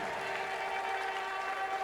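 A congregation clapping during a sermon at a church's twelfth-anniversary service, a faint, steady wash of hand claps heard from a distance with a faint background hum.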